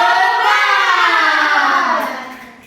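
Primary schoolchildren in a classroom perform the "tepuk semangat" clapping chant together, a loud, bright burst of massed young voices with clapping that holds steady, then tapers off toward the end.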